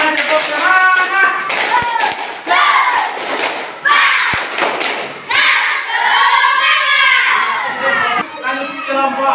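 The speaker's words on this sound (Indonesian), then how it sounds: "Tepuk semangat." A class of schoolchildren performs the 'tepuk semangat' chant in an Indonesian classroom, voices shouting rhythmic sung phrases punctuated by group claps and thumps, loud and close.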